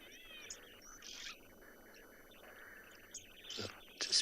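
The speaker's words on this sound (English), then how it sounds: "I can hear some oxpeckers as well, which are also hole nesting birds" Oxpeckers calling from trees in the savannah at sunset, giving a few short, scattered chirps and buzzy calls at moderate distance over a faint, quiet background.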